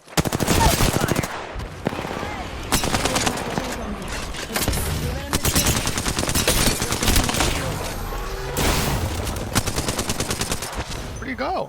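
Gunfire in the video game Apex Legends comes as rapid automatic bursts, loud and close, separated by brief gaps over several seconds, with occasional player voices in between.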